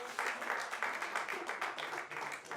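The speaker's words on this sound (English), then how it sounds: "That deserves a round of applause." Audience applause at a talk on happiness, a dense, steady wash of clapping from a crowd filling the whole stretch, fairly loud with slight swells and no speech over it.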